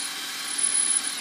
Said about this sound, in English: Just going to drill a little spot here, just a starting spot,